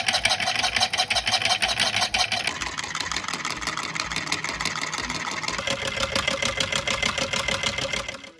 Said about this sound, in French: ce prototype décrivant un mouvement oscillatoire vertical un peu particulier est beaucoup plus silencieux et continuait de me mélanger parfaitement les pots.